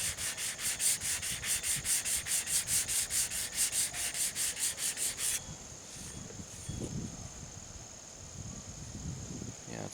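Rhythmic back-and-forth rubbing scrubs an engine gasket surface clean, about twenty quick, even strokes in a row, followed by softer, irregular scraping and a faint steady whine.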